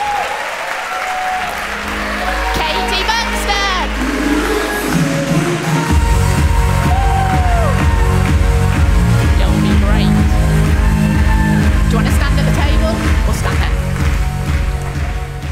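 Loud, sustained applause from a large audience welcoming a woman onstage, building after a few seconds into a dense, continuous clapping with cheers and a rhythmic clapping beat.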